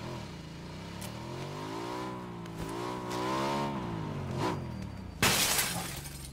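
Motorcycle engine in PUBG revving up and down in wavering harmonic sweeps, a steady droning whine that rises and falls, ending with a sharp crash-like burst near the end.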